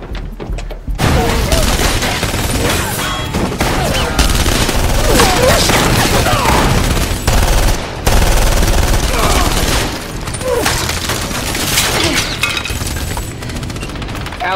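Heavy automatic gunfire fills a TV-series fight scene from Nikita: sustained loud volleys and crackling bursts run almost nonstop, mixed with shattering and impact noises.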